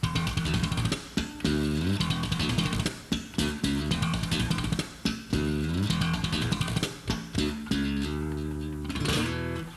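A punchy guitar slap and tap lick mixing slapped, percussive thumps with tapped notes, played in quick rhythmic bursts with no voices.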